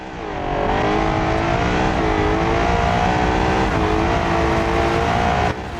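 A 1,800 horsepower family sedan in the BeamNG video game revs loudly and holds a high, steady engine whine that rises slightly, then cuts off abruptly near the end.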